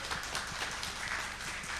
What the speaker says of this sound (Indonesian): saya boleh minta tepuk tangannya dulu gak sih?